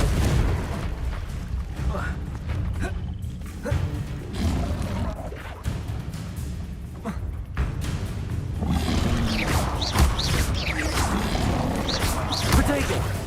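Repeated magical blasts from the Confringo explosive spell in Hogwarts Legacy, booming impacts and crashing bursts layered over a dense, loud game soundscape of rumbling effects and creature roars.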